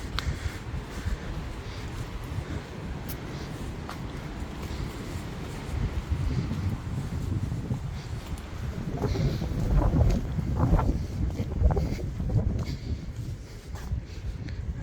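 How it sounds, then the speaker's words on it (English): Gusty wind buffets the microphone on top of Black Mountain in Tennessee, a low, rough rumble rising and falling in waves, loudest midway, with faint rustling and footsteps. "You can hear how windy it is up here."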